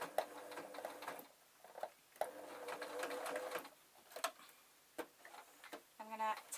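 A sewing machine stitches a tweedle muffler in several short bursts of rapid mechanical ticking and whirring, broken by brief pauses, close and fairly quiet, with a voice speaking in between.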